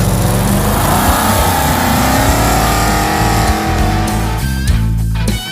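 A loud, throaty big block V8 Duster muscle car roars as it accelerates hard, revs climbing and shifting before the engine note drops away at the end.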